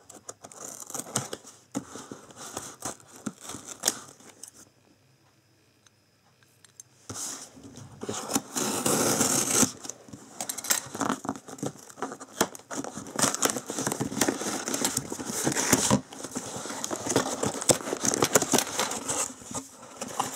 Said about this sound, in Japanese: ではまあ開封していきたいと思います。